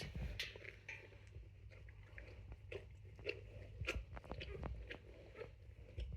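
Quiet, irregular wet lapping and slurping close by as a dog that has just given birth drinks from a water pail, small sloshing bursts repeating unevenly over a few seconds with no talking.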